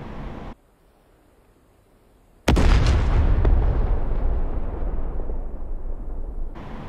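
In DCS World, bombed targets burst in a sudden loud explosion after a near-silent pause, followed by a long rumbling roar that slowly fades, with a smaller secondary pop inside the decay.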